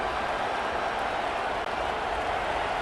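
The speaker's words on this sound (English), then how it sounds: "Listen to this crowd just shaking the girders of this place, trying to help their defense." A large football stadium crowd roars steadily during a Troy at Iowa game, a dense wall of cheering and noise that holds without pause.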